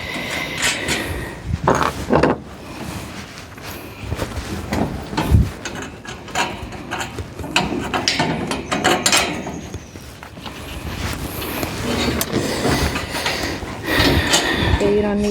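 A ratchet tightens a nut on a metal sheep feeder under repair, irregular clicking and clanking bursts with metallic knocks, while people talk nearby.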